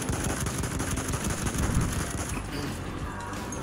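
Rapid bursts of gunfire from the World War I shooter Battlefield 1 rattle continuously, dense and fairly loud, with faint background voices mixed in.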